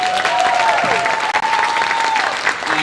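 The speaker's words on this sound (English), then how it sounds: "One more round of applause for the High Point Jazz Ensemble." An audience applauds a jazz ensemble at a holiday pops concert after a swing arrangement of Good King Wenceslas; dense, steady clapping fills the hall, with a sustained instrumental tone ringing faintly underneath.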